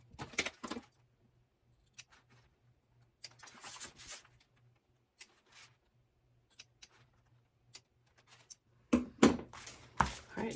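Scissors cutting fabric for a zipper box on a toiletry pouch, quiet sparse snips and a few short clusters of crisp shearing, then louder handling and cutting toward the end, in a quiet room.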